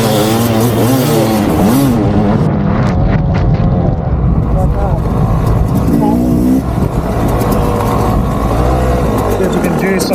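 A Yamaha YZ250X HE two-stroke hard enduro motorcycle revs loudly up close, its raspy engine rising and falling in quick bursts and keeping a steady drone, with wind buffeting and someone talking over it.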